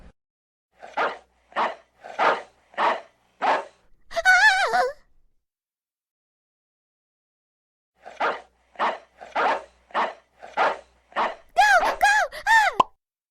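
Dogs bark in a story, with two runs of five evenly spaced, fairly loud barks and a whining, groaning cry after each run. A quiet pause separates the two runs.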